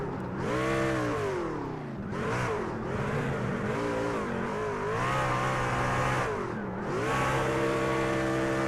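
A race truck in iRacing at Long Beach, engine revving hard and rising through gears with pitch swooping up and down as the throttle comes on and off, loud and continuous.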